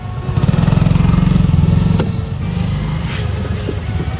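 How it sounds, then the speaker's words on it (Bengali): A vehicle engine runs loud and close as a car reverses slowly, with a steady throbbing idle pulse that smooths into a rougher drone partway through. "তুই ব্যাক কর, আস্তে আস্তে ব্যাক করিস"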